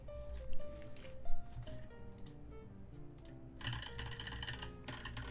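Keystrokes on a CA66 keyboard fitted with NovelKeys Cream switches form a steady, close clatter of uneven presses, with a few louder thocks near the start and faint tonal background music underneath.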